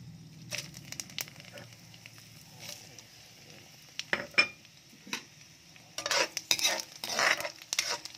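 Dried chili and cloves frying in hot oil for an Indian-style chicken curry, a soft steady sizzle with occasional utensil clinks and stirring scrapes, growing busier and louder toward the end.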